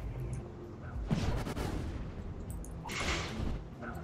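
An enemy fires at the player in the video game Spiral Knights. Two bursts of muffled, booming game gunfire come about two seconds apart over a low, rumbling game background.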